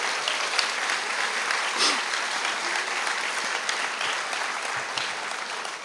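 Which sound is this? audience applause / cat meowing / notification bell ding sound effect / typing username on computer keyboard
audience applause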